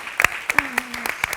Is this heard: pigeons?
no